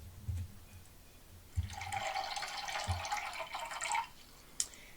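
Radio-play effect of liquid pouring from a height into a stream: a steady rushing, splashing pour that lasts about two seconds mid-clip, preceded by a few soft low knocks, with no voices.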